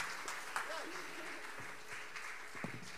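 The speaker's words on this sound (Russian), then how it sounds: "почему такие аплодисменты жидкие" Thin, scattered applause from a theatre audience, with a voice sounding faintly over the steady patter.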